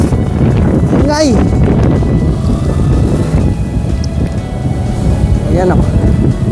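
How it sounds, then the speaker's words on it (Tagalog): Steady, dense rain hisses throughout at a campsite, with people talking over the downpour. "Ulan na guys."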